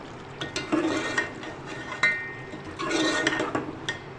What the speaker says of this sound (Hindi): बहुत अच्छी तरह इसको मिक्स करेंगे दही डाल के।